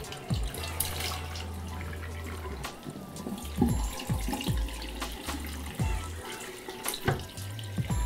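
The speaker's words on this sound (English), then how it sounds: "And refill the sink" Running tap water pours steadily into a sink for washing a wig, with a low continuous gush and occasional splashes and clinks as the sink fills.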